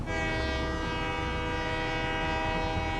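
A train in the video game Satisfactory rumbles past with a sustained, loud horn blast holding steady for the whole stretch, its tone bright and unbroken, with no voices.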